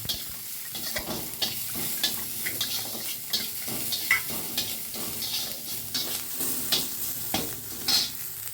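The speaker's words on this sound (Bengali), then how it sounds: "খুব বেশি ভাজবো না, পেঁয়াজ রসুন বেশি ভাজতে নেই" Onion and garlic frying for a sour dal with greens, a steady sizzle of the pan with scattered stirring scrapes throughout, close and moderately loud, no voices.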